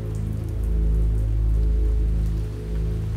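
Steady, dense rainfall from a heavy rainstorm in hilly forest, a continuous broadband wash of pouring rain with a low rumbling undertone, swelling slightly in the middle, with no voices.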